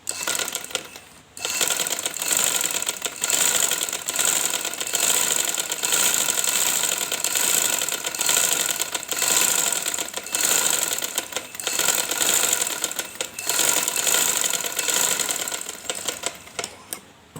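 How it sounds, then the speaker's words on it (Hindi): A sewing machine stitches a band onto a kurta in long, fast, steady mechanical runs, with a brief pause near the start and a few short breaks along the way. "बैन की हमने एक सिलाई लगा लेनी है"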